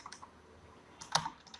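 A few light keystrokes on a computer keyboard while typing code, soft scattered clicks with a sharper cluster of taps near the end, close and quiet.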